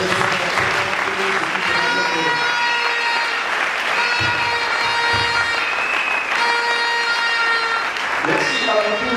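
A church congregation at a Sunday service applauds to acclaim the king of kings, with dense, steady clapping throughout and a voice speaking over it.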